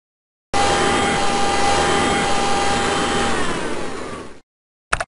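A cartoon vacuum cleaner sound effect from the children's computer game Bailey's Book House: a loud, steady whooshing roar with a faint whine that runs about four seconds, tapers slightly, then cuts off, followed by a brief blip.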